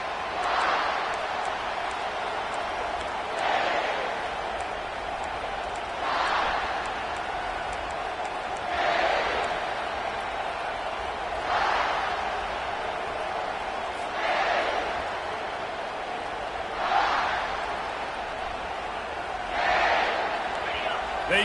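A football stadium crowd at a Gamecocks game swells in rhythmic waves of cheering, surging roughly every three seconds, loud and broad, over a constant roar, with speech present throughout.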